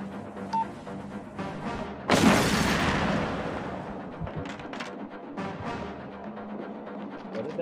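A remote detonation in Hitman: Blood Money lands as one sudden loud explosive boom with a long rumbling tail, following a busy stretch of game sounds and tones.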